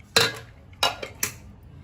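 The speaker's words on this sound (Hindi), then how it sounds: "अब हम कुकर को खोल के देखेंगे" Three sharp metallic clanks of a pressure cooker lid being opened after cooking mutton, close by and separated by short pauses, with quiet background in between.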